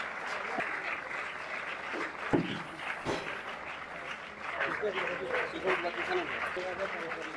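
A crowd claps steadily for the AB Cricket Academy at the opening ceremony of the Ramji Singh Memorial night cricket tournament, continuous applause at moderate distance with a few sharper claps and an announcer's voice over it.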